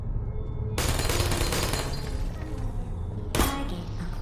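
Turrets in the video game Portal fire in rapid bursts, two dense rattling volleys of gunfire over a low rumble, close and loud.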